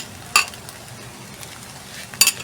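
Cooked pandan rice with onion and garlic is mixed in a pot, two sharp metallic clinks of the spoon against the pan standing out over a faint, low background sizzle.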